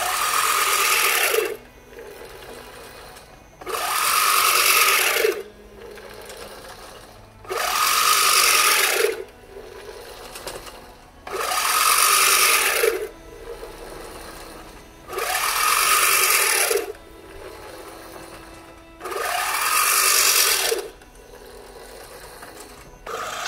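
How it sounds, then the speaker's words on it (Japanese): Nice Birdie push reel mower fitted with a quieter pinion key cutting lawn grass: repeated whirring, clattering bursts of about two seconds each as the mower is pushed, separated by brief lulls, steady and moderately close with no talk. "次に静かな魔法のピニオンキーを装着したナイスバーディーモアで同じ場所を刈り込んでみます。"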